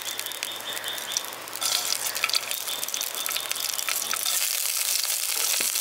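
Asafoetida and black mustard seeds hit hot white oil in a village kitchen, a close, steady sizzle that starts softer and swells into a brighter, louder crackle as the seeds fry.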